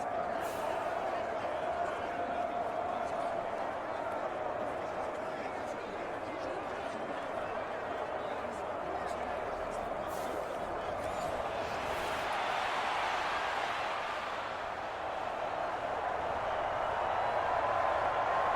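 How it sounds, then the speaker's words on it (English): Steady stadium crowd roar from a Madden NFL football game between the San Francisco 49ers and New York Giants, a continuous wash of noise that swells slightly, with a commentator talking over it. "Listen to this crowd now."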